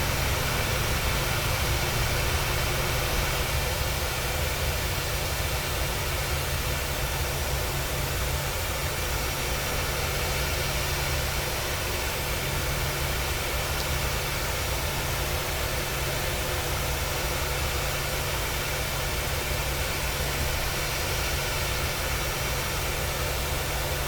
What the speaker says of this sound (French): le moteur droit est en train de démarrer